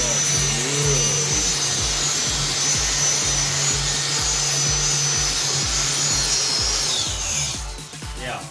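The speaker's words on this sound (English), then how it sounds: "we're also using a wire wheel" A power tool spins a wire wheel to strip paint from metal, giving a steady loud whirring grind with rhythmic pulsing underneath that winds down near the end.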